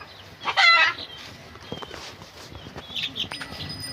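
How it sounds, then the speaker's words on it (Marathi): A lame hen clucks among her chicks at a home in Maharashtra, one loud close squawk up front followed by softer scattered clucks and faint peeping, with no talk over it. "ही पा आमची कोंबडी लंगडी पण हिनं अंड द्यायला पण फोडून टाकलं"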